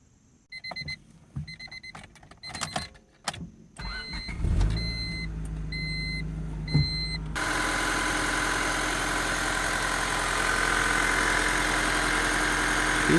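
A 1999 Honda Civic EX four-cylinder starts up after a series of repeating warning-chime beeps, then settles into a steady, even idle heard up close with no knocks or irregular sounds.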